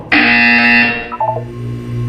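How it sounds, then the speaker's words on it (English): In the video game Portal 2, a loud harsh electronic buzzer blares steadily for about a second. It cuts off into a short pulsing tail and a low hum, with no talking. "When you hear the buzzer, look down at the floor."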